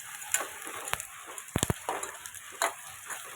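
Onions fry in a pan for semiya upma, giving a steady soft sizzle with a few sharper crackles and stirring clatters near the middle, close and alone with no talk.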